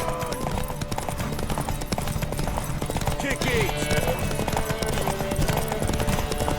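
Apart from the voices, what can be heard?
horse galloping hooves in video game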